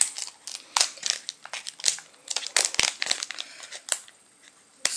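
A 99-cent package of 100% cotton items being torn open, its plastic wrapper crinkling and crackling in loud, irregular bursts at close range, with no talking over it.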